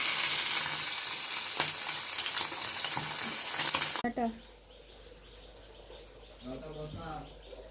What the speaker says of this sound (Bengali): মাছ ভাজা বসিয়ে দিয়েছি, মাছ হয়ে এসছে।